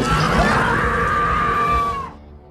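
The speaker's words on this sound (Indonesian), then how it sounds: "terdengar suara menyeramkan dan astronot itu berteriak lantang" An astronaut in a film lets out a loud, sustained scream lasting about two seconds, rising and then cutting off abruptly into near silence.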